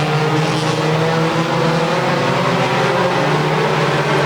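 Race cars roaring down the back straightaway of an oval track during a feature race, a continuous, loud blended engine drone with no talk over it.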